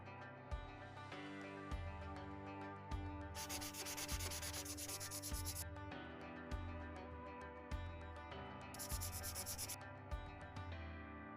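A pencil colours in a printed letter, making faint, close, scratchy strokes in a steady back-and-forth rhythm, with brief louder bursts of quick scribbling.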